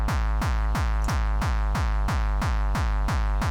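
An artcore kick drum without its pitch envelope pounds in a steady, rapid run of about ten hits. It is loud and heavily distorted, with a flatter, sustained boom and no downward sweep, and nothing else plays.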